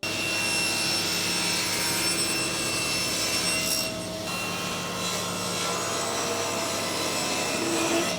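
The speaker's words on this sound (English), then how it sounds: "So time to cut these and then get a straight edge along each side." Wooden panels for a pool stick stand being cut with a power saw, a steady loud whining drone running throughout with a brief dip in the middle, no talking.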